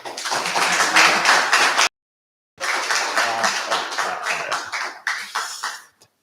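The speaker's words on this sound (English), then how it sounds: "a big applause for your hospitality" Applause at a general assembly in Marostica, Italy, a burst of hand clapping that cuts off abruptly into silence, then resumes as scattered, uneven claps that thin out and fade away.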